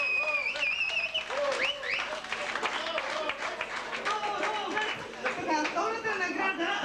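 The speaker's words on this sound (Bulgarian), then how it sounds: "Аплодисменти за тази невероятна двойка." Audience applause for a couple at an event with prize giveaways, a dense patter of clapping mixed with crowd chatter and voices, including a child's, heard close and steady throughout.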